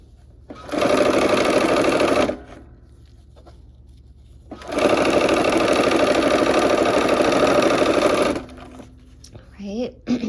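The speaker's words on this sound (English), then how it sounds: "I'm sewing on the same side, okay, because it keeps the assembly line piecing so that you can keep on going that way" Sewing machine stitching quilt block pieces in two sustained loud runs, a short burst and then a longer one, with a quiet pause between them and a brief whirr at the end.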